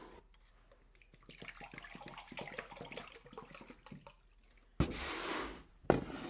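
Two cups of water poured into a medium pan while making plant-based chai tea, a steady rushing pour near the end after quieter handling noises, close and fairly loud.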